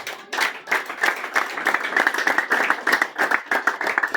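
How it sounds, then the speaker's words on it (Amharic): A church audience clapping in praise of Abraham, a lively burst of many hands beating in quick, uneven rhythm, close and fairly loud throughout. "ለአባባ አብርሃም አጨብጭቡለት።"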